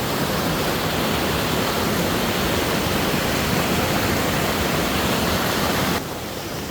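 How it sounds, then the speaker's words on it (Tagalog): A forest waterfall roars as dense, steady white rushing water, loud and close, unbroken for several seconds with a slight drop in level near the end. "Ayan ang falls, oh."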